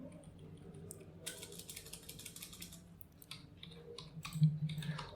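Someone types a folder name on a computer keyboard: close, irregular bursts of crisp key clicks, alone with no talking.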